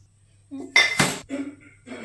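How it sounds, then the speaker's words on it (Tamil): Rice and lentils for hotel-style pongal are washed in a metal vessel, giving a few sharp clinks and scraping knocks against the pot, close and fairly loud. "நல்லா கழுவிட்டு வந்துடலாம்."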